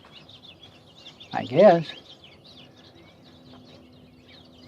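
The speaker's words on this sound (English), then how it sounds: "if the recorder is picking up all the bird sounds, that it's spring here in Alabama" Faint spring birdsong in Alabama, thin chirps and twitters scattered in the distance throughout, with someone speaking briefly in the middle.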